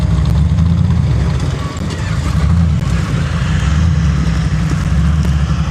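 A big blue diesel vehicle idles nearby at an off-road driving event, giving a steady, loud, low rumble that barely changes from start to finish.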